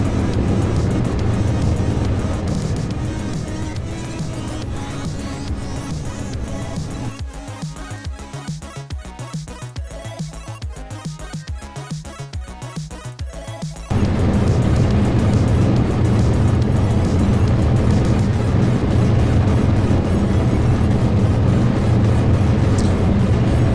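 A craft's engine roars steadily during takeoff in Kerbal Space Program, a loud continuous rumble that thins and drops for several seconds midway, then surges back louder and holds to the end.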